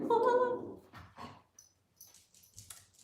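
A dog gives a low, short growl near the mic, then quieter whimpering sounds follow alongside faint household noises.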